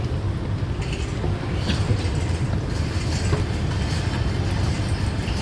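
A train rumbling past nearby in Singapore, steady loud low roar with rhythmic clatter of wheels on the tracks throughout.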